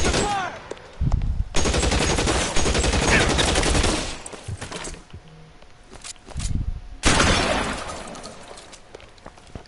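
Shotgun gunfire in LA Noire: loud bursts of close, sharp blasts with shattering debris come in two dense clusters, and quieter scattered impacts fall between them.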